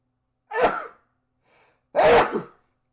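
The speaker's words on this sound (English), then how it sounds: "Oh boy, time to sneeze." A short sharp intake of breath, a brief pause, then one loud explosive sneeze, close and alone in a quiet room.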